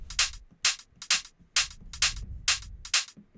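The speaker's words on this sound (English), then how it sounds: "So those hats together, they sound like this." Crisp hi-hat hits in a loose, swung UK garage rhythm, about seven strikes, some short and closed and others ringing longer and open, over a soft low thump.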